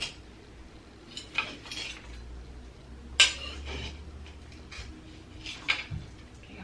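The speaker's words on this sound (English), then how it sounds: "I'm just taking like a butter knife and trying to like move it all around" Butter knife scraping and knocking around the inside edge of a plant pot while repotting a Monstera Borsigiana, scattered scrapes and clinks with one sharper tap, close and quiet.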